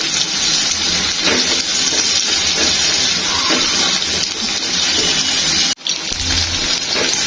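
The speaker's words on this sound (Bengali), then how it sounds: "পেঁয়াজ ভাজা হয়ে যাচ্ছে" Onions fry in oil for okra chorchori, a loud continuous hiss and crackle heard close, with a brief dip near the end.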